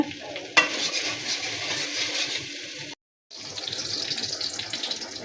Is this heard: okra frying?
yes